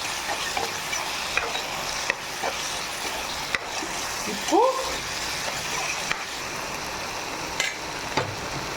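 Chicken liver curry fries in separating oil with curry leaves, producing a steady sizzle with stirring scrapes and clanks against the pan and a brief spoon knock near the middle.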